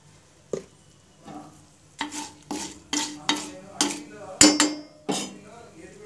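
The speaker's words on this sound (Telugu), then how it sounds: "పోపు వేగింది" Tempering spices sizzle in a pan as a metal spoon stirs them for a mint-coriander chutney, giving a series of sharp scraping clinks over a soft frying hiss, close by.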